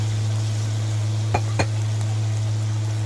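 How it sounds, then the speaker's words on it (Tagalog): Marinated pork for adobo dropped into a hot pan, a loud steady sizzle with two sharp clinks midway and a constant low hum behind it. "Next yung ating minarinate, ihuhulog na natin."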